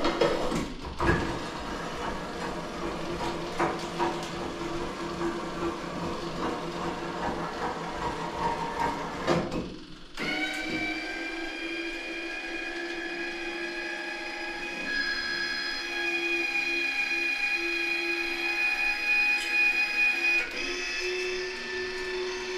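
A Kubota BX2380 tractor snowblower with an electric chute rotation and deflection setup: a rough, broadband mechanical rumble gives way to a steady, high electric motor whine with clear overtones, continuous and fairly close, with no voices.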